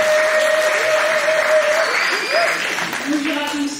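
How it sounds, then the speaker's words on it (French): A church congregation applauds steadily, a dense patter of many hands at moderate distance with a voice speaking over it. "On applaudit pour le Père Yohan."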